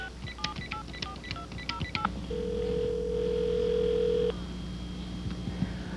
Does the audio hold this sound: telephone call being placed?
yes